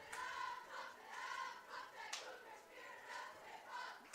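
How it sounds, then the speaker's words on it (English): Crowd at a college football game against Greenville, the Cougars cheer team leading rhythmic chanting and calls, a steady swelling roar of voices heard from the stands at moderate distance. "You can hear the Cougars cheer team keeping the crowd alive here as we enter the late stages of this game"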